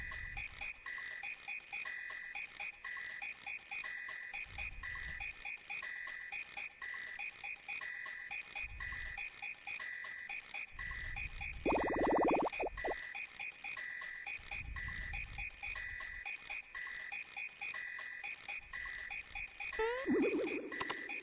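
Cartoonish croaking frog sounds repeat in a steady, looping rhythm at the tadpole shop in the Super Mario RPG video game, set against continuous game music, with a brief brighter chime near the end.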